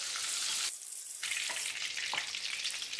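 Paneer cubes frying in hot oil for chilli paneer, a steady loud hiss and crackle of sizzling that dips briefly before resuming, close and without talk.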